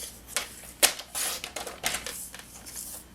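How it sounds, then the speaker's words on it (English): A paper trimmer slices through cardstock with a series of crisp, close swipes and clicks, uneven in rhythm, with no talking. "I'm just going to trim on that side to get it to the 4 1/4 inch mark"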